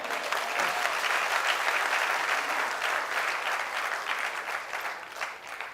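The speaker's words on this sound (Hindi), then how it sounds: "आ जाओ, जोरदार तालियां हो जाए।" Audience at a network marketing seminar bursts into loud, sustained applause, a dense, steady wash of clapping from a large crowd with little variation.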